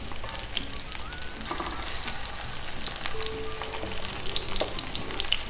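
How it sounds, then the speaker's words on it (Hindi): Shami kababs fry in foaming oil in a home kitchen, giving a continuous close, loud sizzle and crackle with occasional clinks of a utensil throughout. "ये ऑयल में मॉइस्चर की वजह से झाग बन रहा है, ये अभी फ्राई होंगे तो ये ठीक हो जाएगा।"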